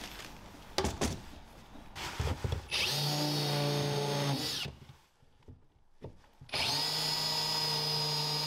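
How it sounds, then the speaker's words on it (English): A power drill bores down through plywood and a thin fiberglass layer on a small boat's roof, with several loud sustained whining bursts separated by short pauses. "we needed to drill down through the ply and then through the thin layer of fiberglass"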